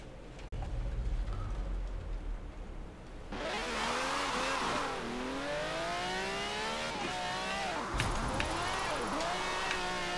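A car in the Forza Horizon 4 racing game on a wet road revs and accelerates, its engine tone climbing and dropping through gear shifts, fairly close and steady after a quieter opening.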